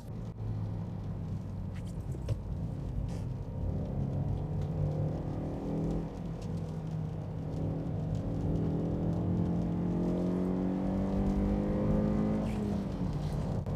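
Honda CR-Z engine hums steadily from inside the car while driving through curves, its pitch rising and falling with throttle changes and gear shifts over a constant road rumble for about fourteen seconds.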